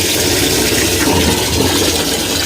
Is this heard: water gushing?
yes